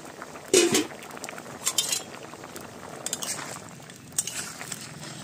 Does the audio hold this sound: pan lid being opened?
yes